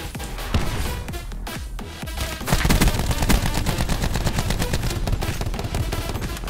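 Heavy gunfire from a big gun in a video game: sharp booming shots, then a denser run of rapid fire, loud and close throughout.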